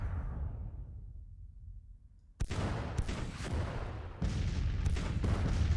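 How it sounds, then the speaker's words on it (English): Howitzer artillery firing in the Civil War game Grand Tactician, a fading rumble followed by a loud booming blast, then more heavy overlapping cannon reports and rolling thunder. "In theory, they're howitzers, so they should be able to fire over the top of the enemy."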